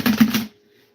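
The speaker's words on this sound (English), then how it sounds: "we are going to go ahead and shuffle" A tarot card deck being shuffled, giving a quick run of rhythmic papery riffling bursts for about half a second, close and fairly loud, then near silence.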